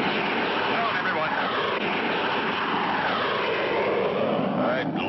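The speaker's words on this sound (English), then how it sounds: "the black jet suddenly dove at them" A black jet plane dives at people in a 1959-60 cartoon, a loud continuous engine roar that holds steady and fills the whole stretch, with no speech over it.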